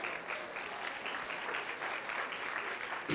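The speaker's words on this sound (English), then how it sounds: "Again, a round of applause for Billy Mitchell, the Mitchell family." A room full of people at a store auction event claps in steady, dense applause that holds at an even level throughout.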